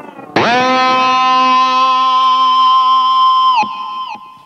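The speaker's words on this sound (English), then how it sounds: "And it goes into a nice feedback there." An electric guitar note struck hard with distortion and a Fernandes Sustainer, ringing out into sustained distorted feedback that holds steady for about three seconds before cutting off.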